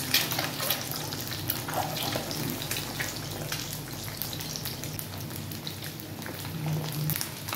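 Egg masala fries in a pan with a steady, even hiss and crackle of hot oil, continuous and moderately close throughout, with no talking.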